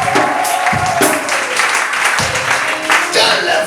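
Convention audience applauding and cheering in a large hall, a sustained wash of clapping with bursts of voices rising and falling throughout.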